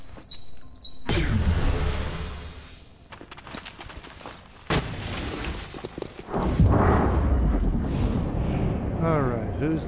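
A grenade detonates in the tactical video game XCOM: Chimera Squad, a loud booming blast followed by rumbling debris and combat clatter, with a voice talking over parts of it.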